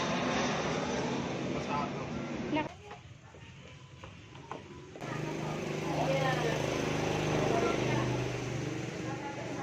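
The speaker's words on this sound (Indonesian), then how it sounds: "Oh, pesawat no. Pesawat tuh." An airplane passes overhead as a distant, rumbling engine drone that rises and falls beneath people talking outdoors.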